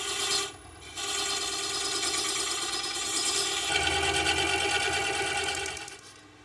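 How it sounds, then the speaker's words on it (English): A wood lathe turns a large ash hollow form while a tenon is cut on its end, giving a steady, loud whirring drone with a rasping tool-on-wood scrape that stops briefly near the start and runs continuously after. "I'm just now going to put a tenon on the end"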